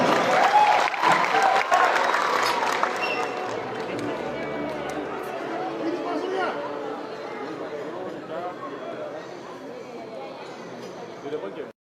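Sustained applause from a crowd at an Indonesian political party event in honour of PSI chairman Kaesang Pangarep, loud and dense at first, then easing into steadier clapping mixed with crowd chatter.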